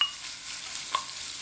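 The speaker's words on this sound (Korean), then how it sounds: "양파부터 볶아주세요." Carrots and onions stir-frying in cooking oil in a home kitchen, a soft steady hiss and sizzle with a brief scrape of stirring near the end, close and alone.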